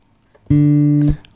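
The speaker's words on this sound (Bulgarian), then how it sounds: "На четвърта струна чуваме тона ре." A single low guitar note, D on the open fourth string, sounds steadily for about half a second, then cuts off.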